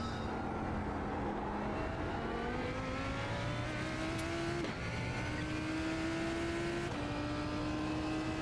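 A Lamborghini GT3 race car in a racing video game, lapping the Adelaide circuit, its engine droning steadily and climbing in pitch through several upshifts, with no talk over it.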